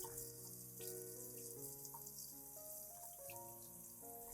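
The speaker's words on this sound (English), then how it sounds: "bring the orchid to a source of clean water and gently rinse the entire root system" Orchid roots are rinsed under a running tap, a steady close splash of water that continues for several seconds with no voices.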